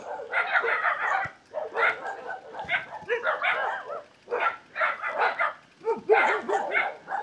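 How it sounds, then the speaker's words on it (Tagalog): Several village dogs in Amadeo, Cavite bark and yip in repeated loud bursts with short gaps between them, fairly close by. "Daming aso dito."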